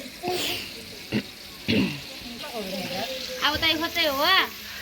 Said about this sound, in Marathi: लसूणची पेस्ट तळून घ्यायची